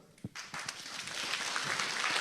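An audience in a hall applauds a speaker, standing as they clap. The applause swells from a few scattered claps into a dense, sustained ovation that stays loud to the end.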